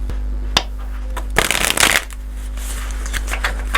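Astrology cards being shuffled up close, a loud burst of riffling and flapping in the middle and a few light card snaps before and after, over a steady low hum, with no talking.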